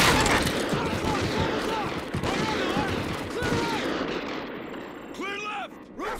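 Bursts of gunfire and impacts ring out during a room breach in a Call of Duty game, dense and loud, with voices calling out amid the shots.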